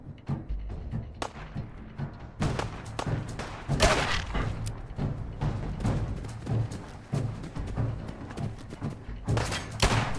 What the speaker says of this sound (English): There's bullets landing near me?